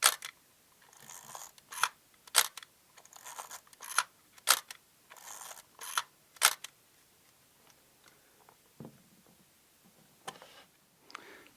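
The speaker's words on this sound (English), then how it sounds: "So here's the shutter sound." Repeated crisp mechanical clicks of a film camera shutter firing, about eight sharp releases in a loose rhythm, close and fairly quiet, then a few fainter ticks.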